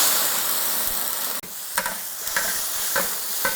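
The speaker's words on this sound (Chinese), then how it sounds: "番茄最好是下一半留一半， 小火慢慢的炒，不要着急，直接把它全部炒出沙" Tomatoes are stir-fried slowly over low heat in a wok, giving a steady soft sizzle, with a few spatula scrapes and stirring clacks spaced through it; no voices are heard.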